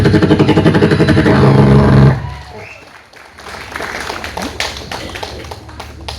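A voice imitates a helicopter's rapid rotor chop for about two seconds, then a crowd breaks into applause and noisy cheering.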